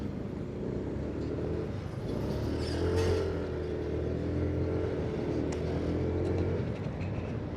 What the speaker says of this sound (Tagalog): Sarap gamitin talaga tong NMAX Turbo.